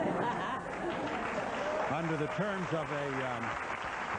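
Studio audience applause on a 1991 Donahue talk show, a broad steady wash of clapping running throughout beneath someone speaking clearly over it.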